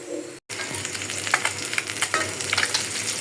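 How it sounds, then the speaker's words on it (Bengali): Fish fries in a pan with a constant, close sizzle and crackle of hot oil, marked by occasional sharper pops and stirring scrapes. "আমি শাকটা নামাই এখন সবার আগে মাছটা ভাজিয়ে নিই"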